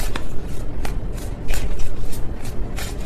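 Tarot cards shuffled by hand in a loose, uneven way, with scattered sharp flicks and riffles over a soft rustling bed, close and steady with no voices.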